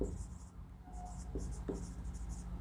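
Marker or chalk scratches on a board in short strokes, close and clear, with a soft hum underneath and faint voices briefly audible.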